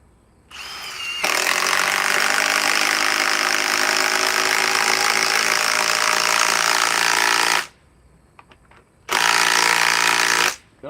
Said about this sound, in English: let's switch over to the compact impact wrench with 8 amp forge battery